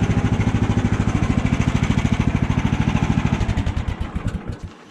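A portable sawmill engine runs in cold, icy conditions with a steady, loud, rapid chugging pulse that slows and fades as it is shut down near the end.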